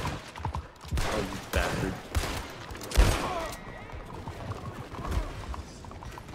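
Scattered gunshots crack in a video game, several sharp irregular bursts at moderate distance, mixed with a speaking voice and background game noise.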